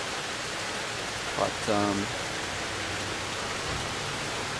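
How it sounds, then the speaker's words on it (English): Steady rain falls in a lush green outdoor spot in Vietnam, making an even, soft hiss throughout, with a short burst of talk about midway. "you guys like the rain? It's very peaceful, serene sounds."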